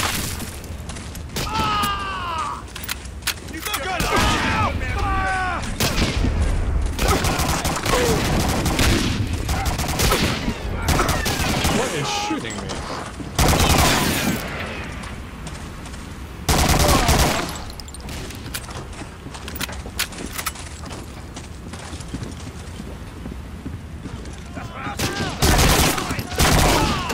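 Gunfire rattles through a Medal of Honor: Spearhead battle, with dense bursts of rifle and machine-gun shots, booms and crashes that pause and resume, loud and close. Shouting voices break in briefly amid the shooting.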